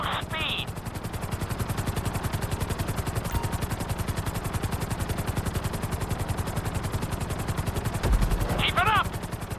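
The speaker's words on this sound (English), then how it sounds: "we'll see how well you handle the chopper" A helicopter in Grand Theft Auto V flies with a fast, steady rotor chop throughout, close and loud, with brief electronic beeps near the start and end.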